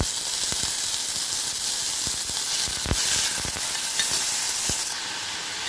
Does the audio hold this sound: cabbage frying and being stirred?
yes